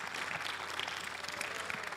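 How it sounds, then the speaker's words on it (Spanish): Applause from a church congregation during a worship service, a steady dense wash of many hands clapping at moderate volume with no pauses for the full stretch. "Dar un aplauso al Señor."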